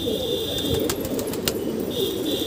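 Pigeons cooing in a steady low murmur from a neighbour's flock, with a thin high chirp fading in and out and a couple of sharp taps.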